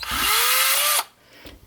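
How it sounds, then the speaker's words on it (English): A power drill whirs loudly for about a second while drilling a hole, its pitch rising slightly, then stops; a faint brief tool noise follows. "I'm going to drill in from this side, not this side"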